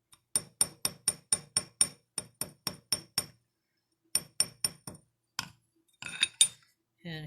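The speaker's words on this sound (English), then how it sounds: "I hold the other links over the edge and just hit it with the ball peen side" A ball peen chasing hammer strikes silver earring links held over an edge, giving a close, crisp run of about twenty sharp metallic taps in quick, fairly even bursts with a brief pause, then a few louder clinks.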